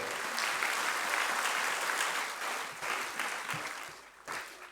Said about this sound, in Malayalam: നമുക്ക് ഒരിക്കൽ കൂടി കൈയടിച്ച് ദൈവത്തിന് നന്ദി പറയാം